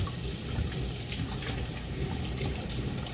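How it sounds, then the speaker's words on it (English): A knife blade is rinsed under a running kitchen tap, giving a steady, close wash of flowing, splashing water for a few seconds with no talk. "Wash my blade real quick."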